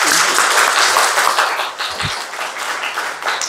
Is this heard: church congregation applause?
yes